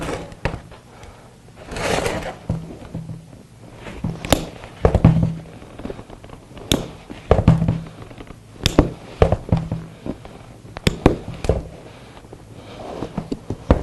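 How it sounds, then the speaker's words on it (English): Snips cutting hog rings off a 1997-2003 Ford F150 seat bottom cover, a series of sharp metallic snaps and clicks at irregular intervals, close with handling noise between cuts. "We'll go through the snips and we'll snip those rings off."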